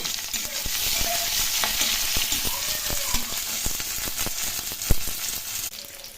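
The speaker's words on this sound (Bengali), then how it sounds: "পেঁয়াজ, রসুন এবং কাঁচা লঙ্কা এগুলো একটু ভালো করে ভেজে নেব।" Onion, garlic, ginger and green chili fry in a pan with nigella seeds, giving a dense, continuous nearby sizzle with irregular scraping and tapping of a spatula stirring throughout, no voices.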